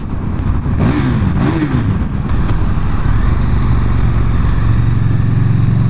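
A KTM 1290 Super Duke R motorcycle roars up through the gears, its engine note climbing and dipping in quick revving sweeps before settling into a loud, steady drone in sixth gear, heard close and strong.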